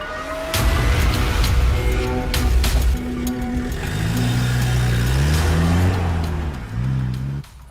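A car engine starts and the vehicle pulls away, a rumbling idle rising into revving with shifting engine tones and a few sharp knocks and clicks, fairly loud and near.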